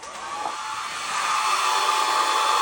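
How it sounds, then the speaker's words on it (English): A handheld hair dryer blows a steady, loud whoosh over drying paint, the airflow rising slightly after the first second and then holding constant throughout. "I'm going to hit this with the hairdryer to get this to dry a little bit."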